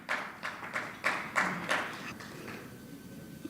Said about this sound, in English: That was a criminal defense attorney clapping